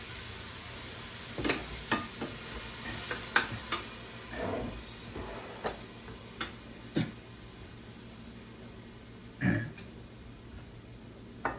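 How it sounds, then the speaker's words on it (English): A frozen, pre-cooked ham sits in a dry pan with no oil added and gives off a faint, steady hiss, broken by scattered sharp pops and crackles. "I'm gonna put that ham right in the pan, and that ham has been pre-cooked"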